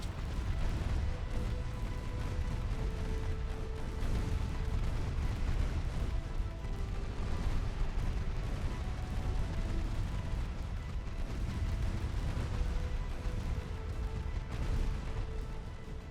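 Warship guns booming in the naval video game Ultimate Admiral Dreadnoughts, a continuous low rumble of distant heavy firing and explosions rolling on without pause, with faint tonal game sounds on top.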